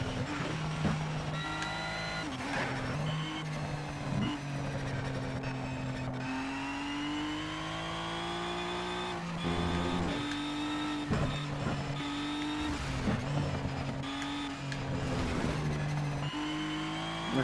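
Race car engine droning steadily in Need for Speed Shift 2 Unleashed, driven from the cockpit view, with rising and falling revs through gear changes and no talk.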